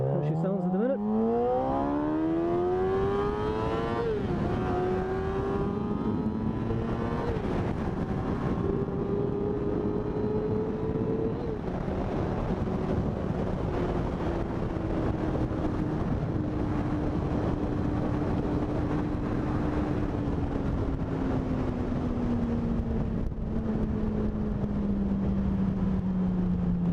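Engine note of a 2008 Yamaha R6 motorcycle fitted with an SC Project muffler and Black Widow exhaust, revving up and holding steady, close and loud throughout with a falling pitch toward the end.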